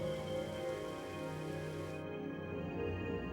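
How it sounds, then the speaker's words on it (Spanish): Steady, dense rain hiss stands in for deadly acid rain falling over a darkened Earth, a constant wash of drops with a low rumble beneath, its brighter top end dropping away halfway through. "mojando la Tierra con una letal lluvia ácida"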